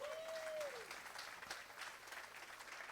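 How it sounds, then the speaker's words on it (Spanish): Congregation applause at a Spanish-language church service, a broad steady wash of clapping through the whole stretch, moderately loud with faint room noise beneath. "¿Cuántos le dan un fuerte aplauso al Señor?"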